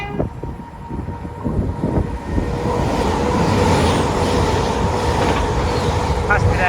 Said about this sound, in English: Passing there was a Great Western Railway service that I believe was bound for Cardiff Central.